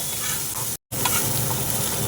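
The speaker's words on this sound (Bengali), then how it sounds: "ভালো করে ভেজে নেব।" Soybean chunks fry steadily in white oil with turmeric and salt, a dense continuous sizzle with faint stirring scrapes, close and alone with no talk, broken by one brief dropout.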